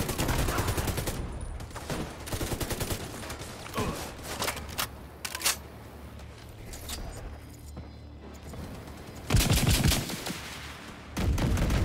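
Bursts of gunfire from The Division 2 video game, several rapid automatic volleys with mechanical clicks and creaks between them, loud and close, with quieter stretches in the middle.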